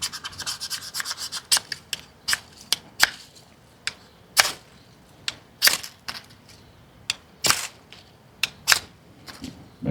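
A fire starter from a 12-piece camping kit is scraped by hand in a run of sharp, irregular rasping strokes, close and fairly faint, with short pauses between the scrapes.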